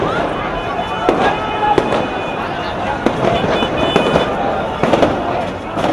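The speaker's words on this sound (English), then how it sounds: "I could hear the shots getting louder as the armored personnel carriers approached" Gunfire at a street protest in Egypt near Maspero as army armored vehicles approach, scattered sharp cracks and pops at a distance over a dense rumble of crowd noise, with voices present.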